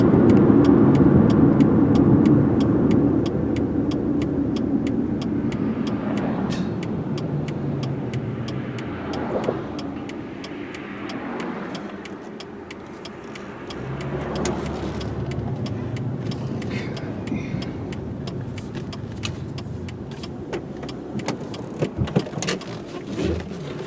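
A 2003 Chevy Malibu sedan cruising along, steady road and engine noise from inside the cabin with scattered small clicks and rattles, fading slightly midway then returning.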